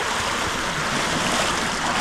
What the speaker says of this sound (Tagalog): Grabe ito, kumukulo bawat salok.